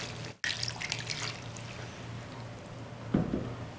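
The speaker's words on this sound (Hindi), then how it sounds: "2 कप पानी शामिल कर लिया।" Two cups of water pour into a pot of mutton and potato curry, a close splashing rush that starts abruptly and runs on, with a short stronger splash near the end.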